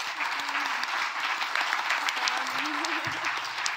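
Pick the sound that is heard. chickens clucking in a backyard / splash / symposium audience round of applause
symposium audience round of applause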